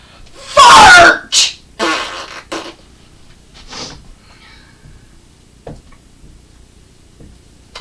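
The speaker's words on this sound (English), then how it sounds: "So they let out a little toot" A fart sound effect plays during a children's English lesson: one loud, buzzy blast up front, followed by a few shorter, softer bursts and faint scattered noises that trail off.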